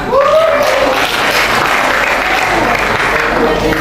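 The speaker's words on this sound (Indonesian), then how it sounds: "Beri tepuk tangan untuk lurah kita." A crowd applauds the village head at an anniversary celebration with a wayang puppet performance, producing a loud, continuous wash of clapping from start to finish, with a brief voice rising over the opening moment.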